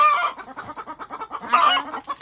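Chickens cluck and chatter close by after being let out to feed in the morning, with repeated short calls, a few sharper louder squawks, and no talking.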